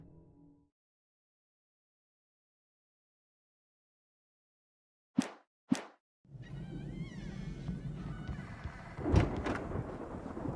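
Storm thunder in the Alan Wake Remastered video game: after near silence, two sharp cracks strike in quick succession, then a loud rolling rumble with rain-like wash and a heavy boom near the end.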